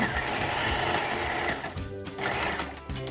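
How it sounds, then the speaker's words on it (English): A close, steady sewing machine drone stitches over a fabric casing on a child's skirt, with a brief slowdown partway through before running on. "And sew right on top of that casing line that we sewed before."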